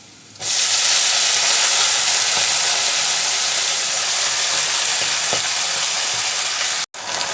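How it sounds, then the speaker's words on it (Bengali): Garlic and onion fry until brown for a pui shak (Malabar spinach) stir-fry, bursting into a loud, dense, continuous sizzle close by that holds steady, then breaks off briefly near the end. "রসুন আর পেঁয়াজকে একটু ব্রাউন কালার করে ভেজে নিলাম"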